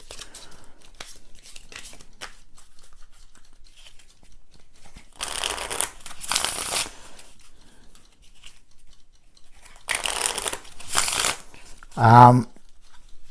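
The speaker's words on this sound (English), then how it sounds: "Wow, it's not the best shuffle." Expert Playing Card Company embossed-finish playing cards, sticky and clumped together, are shuffled in two quick riffling bursts with quiet handling noises between them and a brief voice near the end.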